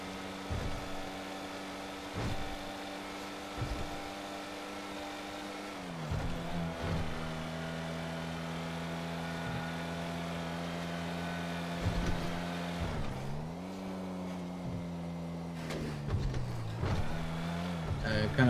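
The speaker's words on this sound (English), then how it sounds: "It's kind of hard to understand with the engine noise." Steady car engine drone from a vehicle in GTA V FiveM roleplay, holding a constant hum with a couple of dips and rises in pitch as it changes speed, running loud and continuous through the whole stretch.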